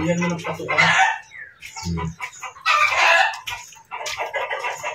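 A chicken clucks and squawks loudly nearby in several bursts, broken by short gaps.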